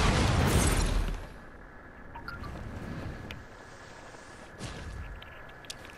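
A rocket blast in Fortnite Battle Royale, a loud booming burst in the first second that fades into a low rumbling wind-like wash, with a couple of faint thuds afterward.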